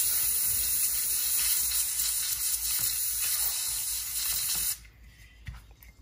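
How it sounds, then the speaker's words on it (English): A can of contact cleaner sprays into an Aiwa HS-J505 cassette walkman in a loud, steady hiss for several seconds and then cuts off abruptly, leaving a quiet room with faint clicks. "And let's spray it out."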